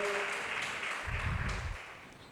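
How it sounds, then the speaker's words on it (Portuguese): A church congregation applauds during a Sunday praise and worship service, a dense, steady burst of clapping that swells briefly and holds for a couple of seconds, with no speech over it. "Aplauda o nome dele, fique de pé."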